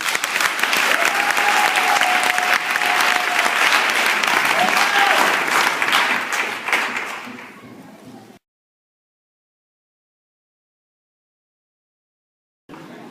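A church congregation at a Sunday service applauding, a dense sustained crowd clapping for about seven seconds that fades out into silence, with a brief return of sound at the very end.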